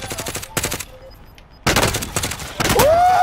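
Loud bursts of sniper rifle gunfire in a video game, several rapid shots at first and then more firing after a brief near-silent gap, ending in a rising whoosh, with faint player talk underneath.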